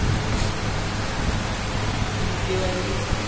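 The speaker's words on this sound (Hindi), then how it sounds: "इनके पंखा दिखाता हूँ, पंखा बड़ा ज़ोरदार है।" A powerful fan and air cooler blow air beside an opened-up motorbike under repair, a steady close broadband whoosh that rushes on without a break.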